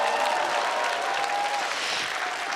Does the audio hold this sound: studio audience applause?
yes